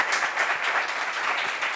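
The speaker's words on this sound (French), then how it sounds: "Applaudissements pour nous" Applause fills a workplace meeting on sexual harassment, a steady dense clatter of many hands clapping close and fairly loud for just under two seconds, with no voices over it.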